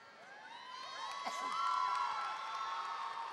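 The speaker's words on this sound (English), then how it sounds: "Let's give them a round of applause." A crowd at a university public lecture on social business cheers and whoops for volunteers with high-pitched shouts, which swell and then hold at a moderate level. Clapping is faint.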